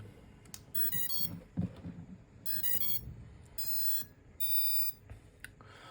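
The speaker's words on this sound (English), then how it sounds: "Now you can hear the beep from the blaster. That's a system self-check" Bursts of bright electronic beeping tones repeat in short rapid runs several times, fairly quiet, with faint mechanical noise between them, as a foam toy blaster runs its system self-check.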